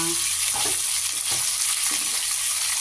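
Potatoes, pointed gourd, teasel gourd and drumstick pieces go into hot oil in a frying pan, giving a steady close sizzle with a few stirring scrapes.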